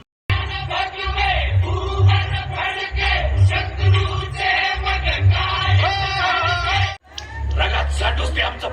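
A large, dense crowd at an outdoor gathering roars and chants loudly and continuously, with a brief drop near the end before the noise surges back.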